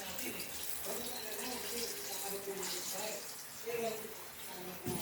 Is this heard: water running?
yes